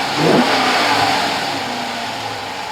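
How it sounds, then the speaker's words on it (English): A Dodge Challenger with a 5.7L engine fitted with a CORSA air intake fires up, swelling into a loud rev then settling into a steady, close idle. "Now start up the car."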